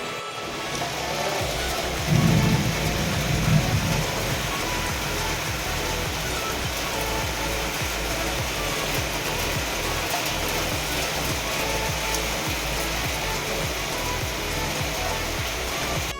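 Steady morning rain pours down continuously in a thunderstorm, a dense even wash of sound with a brief low rumble early on, no voices.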